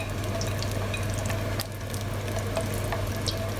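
Cashew nuts and raisins fry in hot oil with a continuous bubbling sizzle, a few sharper pops and clicks scattered across it, close by and without talk.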